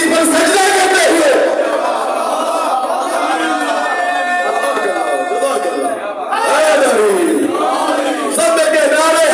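A large crowd roars Haidari slogans in unison, a loud, dense wall of massed voices that surges continuously, dips briefly, then swells again.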